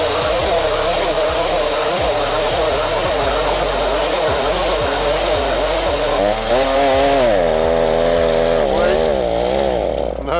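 A Stihl 40cc chainsaw runs loud and close, its engine rising and falling as the throttle is blipped, then revving steadily higher, with a voice talking over part of it.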